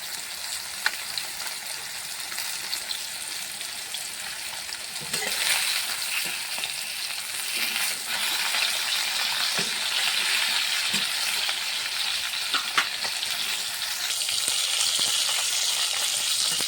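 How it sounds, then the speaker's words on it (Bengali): Rohu fish pieces fry on low heat in a pan, a soft, continuous sizzle that swells slightly partway through, broken by occasional light clicks of turning and stirring. "মাছটা আমি হালকা জালে ভেজে নেব ভালো করে।"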